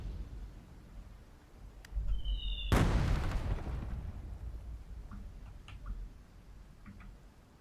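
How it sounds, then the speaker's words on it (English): Thermonuclear bomb explosion in the strategy video game Hearts of Iron 4, a sudden loud blast with a long rumbling decay, preceded by a brief tonal cue and followed by faint clicks. "2 successful thermonuclear bombs."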